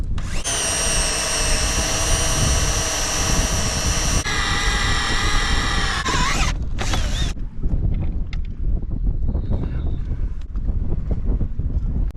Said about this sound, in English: drilling for the screws that will hold this on.